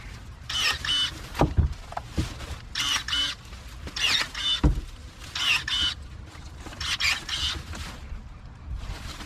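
A Tovia GPS51 25V battery branch pruner buzzes in repeated short motor bursts, roughly four whirring cuts with brief pauses and a few sharp snaps as the blade closes on a branch.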